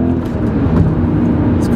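A BMW M5 engine pulls hard under acceleration, a loud, close, sustained low roar with rising harmonics filling the interior, steady throughout.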